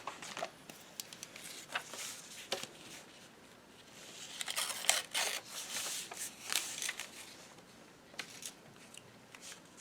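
Scissors cut through a book page, making soft crisp snips and rustling paper at close range, irregular and fairly quiet, with denser cutting around the middle.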